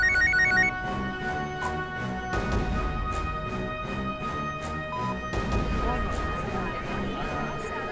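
A mobile phone ringtone plays in a courtroom scene, its repeating melodic chime fairly loud and steady, with dramatic background tones and low thumps under it.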